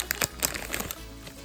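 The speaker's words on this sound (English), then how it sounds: "Decided to cut open the top." Plastic toy packaging for a Squeezamals plush squishy is cut open at the top, producing a quick run of close crinkles and snips that fade after about a second.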